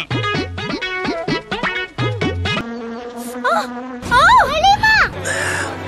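Insect-like buzzing meant as a wasp from a Tamil TV serial, heard as loud, close, wavering buzzy tones with repeated rising swoops, sounding through a television soundtrack.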